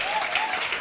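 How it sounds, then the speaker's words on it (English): Audience applause at a Norooz celebration, with a steady wash of clapping across the whole brief moment and some voices mixed in. "Can we have a big round of applause again for Mehdi and Nasser?"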